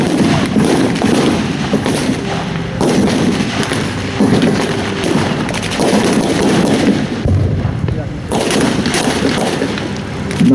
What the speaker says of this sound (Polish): Na razie padają głównie pociski wystrzelone z działa 85 mm i 76 mm amerykańskiej armaty czołgu Sherman.